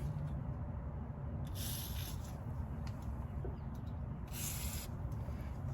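Two short hissing bursts of silicone lubricant aerosol spray onto a 1987 Monte Carlo SS steering shaft, separated by a few seconds, over a low steady background rumble.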